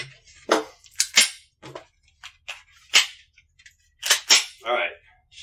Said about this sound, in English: I'm going to load a couple of dummy rounds into this mag here.